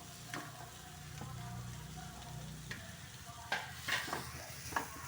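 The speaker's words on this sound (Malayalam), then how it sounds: "രണ്ട് മിനിറ്റ് ഒന്ന് വഴറ്റി കൊടുക്കണം" Ground coconut paste stirred into a frying anchovy thoran, with steady sizzling under repeated scraping strokes and a few sharper clinks of the spoon on the pan, close and quiet.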